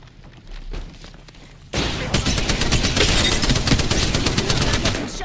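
Apex Legends firefight with quiet distant shots first, then sudden loud, sustained automatic gunfire at close range that keeps rattling to the end.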